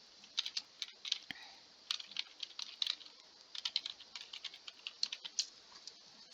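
Computer keyboard typing, irregular quick bursts of soft key clicks at close range, faint and steady with short pauses between runs of keystrokes.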